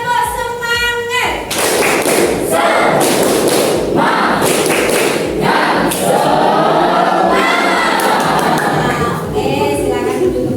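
A classroom group repeats the "tepuk semangat" clapping cheer, loud patterned claps and thuds filling the room for several seconds, with voices calling out over the rhythm and a short spoken line before it.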